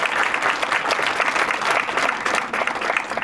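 A dense wash of applause fills a symposium hall, many hands clapping together in a steady, loud burst that holds for a few seconds.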